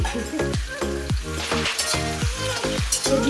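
Potatoes frying with salt and dried red chili give a steady sizzle under repeated metallic stirring scrapes and pan clinks, close and fairly loud, with a rhythmic pattern of strokes through the whole stretch.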